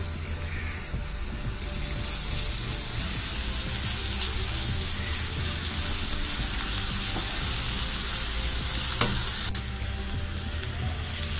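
Onion sizzling in a pan on full gas with ginger-garlic paste and a pinch of salt, for soya chunks masala fry; a steady, close, continuous frying hiss with no voices.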